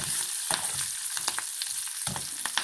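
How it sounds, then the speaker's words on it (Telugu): Tempering for carrot chutney frying in a pan, with a steady close sizzle and intermittent crackles and spatters, and no voices. "కొంచెం ఫ్రై అవ్వాలి ఇది."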